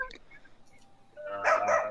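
People on a voice call imitate dog barks, a burst of yappy barking voices rising loudly near the end after a quieter stretch.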